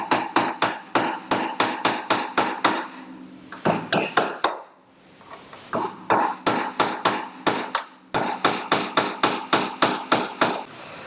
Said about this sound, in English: I can hammer the shock down.